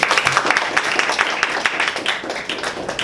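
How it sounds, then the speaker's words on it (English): Audience clapping for a Toastmaster at a club speech evaluation session, a brisk, continuous patter of hands from a small room crowd, close and steady throughout without anyone talking. "Please welcome, a great round of applause to Toastmaster Brian."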